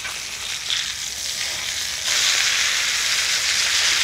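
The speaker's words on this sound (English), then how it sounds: "Our steak sounds like it's almost done, so let's go check on it real quick." Steak searing in a cast iron pan gives a steady, close sizzle with no talk, jumping noticeably louder about halfway through and holding at that higher level to the end.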